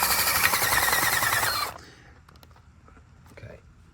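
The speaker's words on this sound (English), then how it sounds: "this is my native soil I'm fixing to drill into" A drill bores into clay-heavy native garden soil, a loud, steady grinding whir for about a second and a half that then stops abruptly, leaving faint rustling and small knocks.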